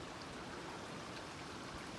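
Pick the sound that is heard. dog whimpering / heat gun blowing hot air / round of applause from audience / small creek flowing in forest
small creek flowing in forest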